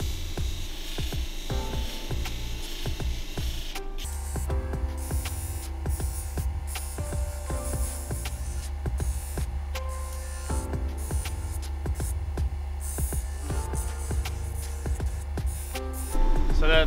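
Cabbing machine wheel polishing an agate stone with water, a steady low motor hum under intermittent scraping and rasping as the stone is pressed to the wheel, close and moderate in level, no speech.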